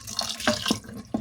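Water from a tap runs and splashes while being added bit by bit to a pot of dried peas, with a few distinct splashy pours over a steady running sound.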